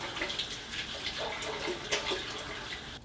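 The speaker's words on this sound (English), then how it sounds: "I'm gonna go wash my hands" A kitchen tap runs in a steady splashing stream while hands are washed beneath it, with soft shifting splashes as the hands move, fairly close and alone.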